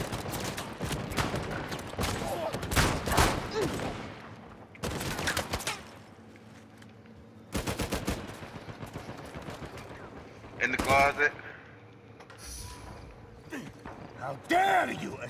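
Bursts of gunfire in Uncharted 4 multiplayer come in loud, sharp volleys spread across the clip, mixed with mechanical clatter and brief stretches of quieter game noise.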